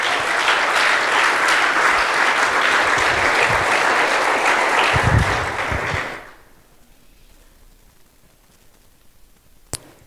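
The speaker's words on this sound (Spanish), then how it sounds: "Dele una ofrenda de palmas a Cristo" A church congregation applauds as an offering of praise, a dense, steady round of clapping that fills the room for about six seconds, then cuts off abruptly into near silence with one sharp tick at the end.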